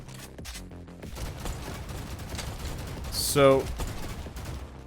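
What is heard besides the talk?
SMG or assault rifle gunfire in a video game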